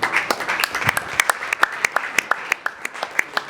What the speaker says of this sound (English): can we give a resounding applause